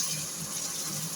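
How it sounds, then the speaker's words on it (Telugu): Water poured from a glass into a pan of sooji rava upma, a steady pouring gush heard close up with no talking. "ఇప్పుడు నేను ఈ గ్లాస్తో వాటర్ వేసుకుంటున్నానండి."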